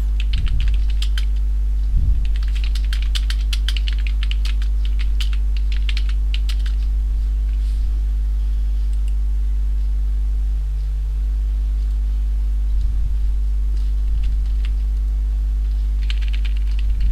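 Typing on a computer keyboard goes on in irregular bursts of clicking keystrokes with short pauses between them, close by and clear over a steady low electrical hum, with no talking.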